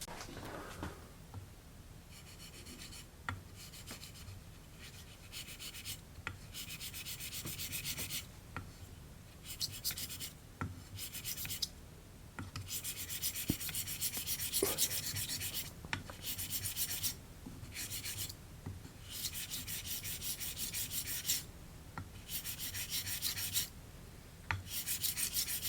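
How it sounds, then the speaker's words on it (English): A Dovo Encina 6/8 inch straight razor is honed on 1 micron lapping film over a 3x8 hone, a steady rasping rub of repeated close strokes with brief pauses between passes. "And then I'm going to finish with the 3x8 with the 1 micron film."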